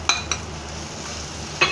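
Tomatoes and spices frying in a pan for dal: a soft continuous sizzle, with a few sharp utensil taps or stirring scrapes near the start and end.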